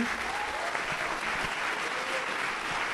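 Audience applause at an awards ceremony honoring actors, a dense steady clapping that fills the room continuously from start to finish with no break.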